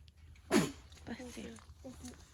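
A single sharp sneeze bursts out, followed by quiet voices talking nearby.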